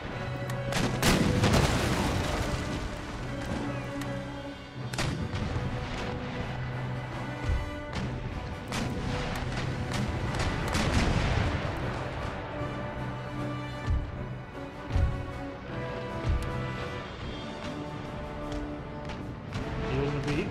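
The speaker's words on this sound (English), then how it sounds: "End up blasting chain shot just so the brig doesn't soak up all the fire." Ships in Empire Total War fire chain shot as a rolling cannonade of repeated booms and cracks, some close and heavy, others more distant, layered over a continuous rumble of battle.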